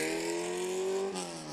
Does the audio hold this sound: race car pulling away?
yes